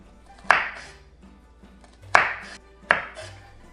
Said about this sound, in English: Begin by finely dicing your carrots into small pieces using a chef's knife and a cutting board